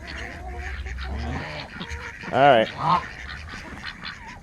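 Ducks give two loud, close honking quacks in quick succession, with someone talking before and after them.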